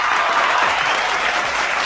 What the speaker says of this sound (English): Y'all clap it up for the big homie